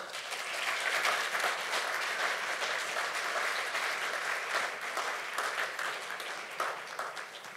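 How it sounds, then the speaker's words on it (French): A graduation ceremony crowd warmly applauds a graduate, with a steady, dense round of many hands clapping from moderate distance that holds evenly and eases off slightly toward the end. "on peut l'applaudir chaleureusement"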